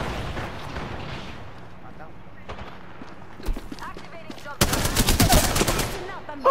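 Gunfire in the video game Apex Legends: scattered single shots and bursts mixed with game effects, with a louder sustained volley near the end, under steady talking.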